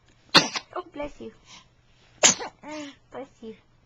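A small child sneezes twice, each sharp burst followed by a short gap, with an adult speaking softly in between and afterward.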